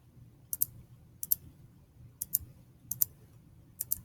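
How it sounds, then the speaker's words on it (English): Calculator keys are tapped one at a time, five crisp close clicks spaced irregularly over a faint low hum, with no talking. "We're going to type in our calculator exactly what we see."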